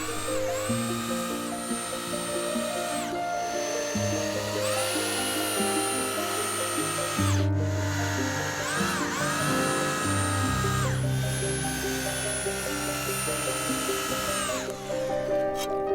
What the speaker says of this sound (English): I'm staggering the screws along the length of the beam, using around 10 screws per beam